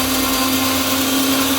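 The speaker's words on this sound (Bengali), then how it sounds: "আমি প্রথমবার আজকে সরষে বাটা করছি" A new mixer grinder grinds mustard seeds with a loud, continuous motor whir that holds steady throughout, nobody speaking.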